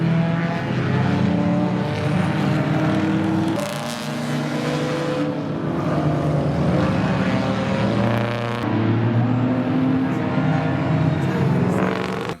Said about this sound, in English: every car is now going as fast as they possibly can